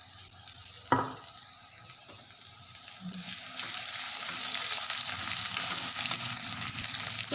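Cumin, garam masala and bay leaf dropped into hot oil for a chicken gravy, a sharp hit followed by a steady sizzle that grows louder and denser as the spices fry, close up.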